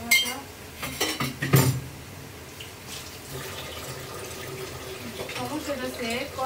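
Pots, a kadai and utensils clatter and clink in a home kitchen, with a few sharp knocks early on, then running water and softer clanks, while people talk in the background.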